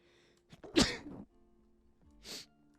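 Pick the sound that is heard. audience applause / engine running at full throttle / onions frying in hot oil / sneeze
sneeze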